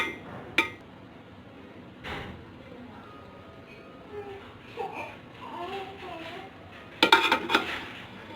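Aloo biryani being served onto a plate: a few scattered clinks and taps of dishes and cutlery, faint and sparse, with a cluster of quick clatters near the end and some talking.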